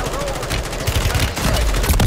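Automatic AK rifle fire without attachments in a video game, rapid crackling bursts running continuously and loud for about two seconds.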